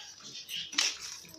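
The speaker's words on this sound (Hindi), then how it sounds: "हम इसको मिक्स कर देंगे।" A spoon clinks against a pot while chicken shami kabab mixture with garam masala, garlic, ginger, turmeric and salt is stirred; soft scraping with one brighter metallic knock near the middle, fairly quiet.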